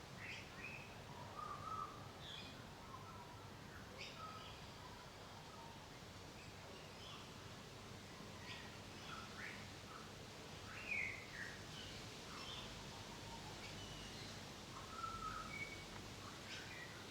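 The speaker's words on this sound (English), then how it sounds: "a distant bird" Faint, scattered bird calls come from a distance over a steady outdoor wash of wind through trees and low traffic hum, with a couple of slightly louder chirps standing out.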